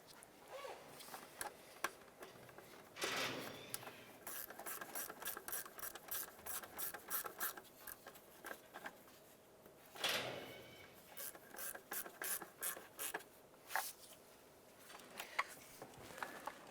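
Ratchet clicking in repeated short bursts while snugging down EGR valve bolts on a 2001-2005 Honda Civic, close and moderately loud, with brief pauses between strokes and no talking.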